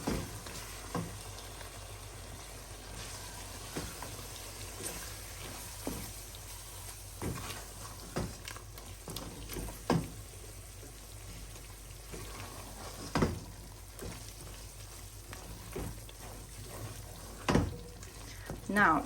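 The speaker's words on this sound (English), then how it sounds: "We are going to give this a really good stir." Chicken curry with curry powder is stirred in a sizzling pan, a faint, steady fry hiss broken by repeated scraping strokes of the spoon at an uneven rhythm.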